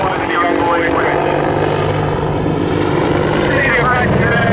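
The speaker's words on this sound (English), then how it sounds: "the Apache rapidly accelerates now" An Apache attack helicopter flying at the Dunsfold Aerodrome Wings and Wheels air show, its loud steady rotor and engine roar filling the air while a commentator talks over it.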